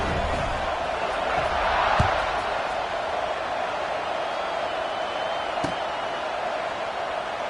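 A stadium crowd at an LSU–Florida college football game roars steadily throughout, a dense, distant-sounding wash of cheering with a couple of sharp thumps rising above it.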